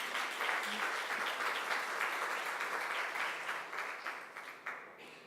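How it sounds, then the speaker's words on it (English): Audience round of applause at a people's hearing on energy profiteers, a steady wash of many hands clapping at moderate distance that tapers off toward the end. "Zen, can we please give you a round of applause?"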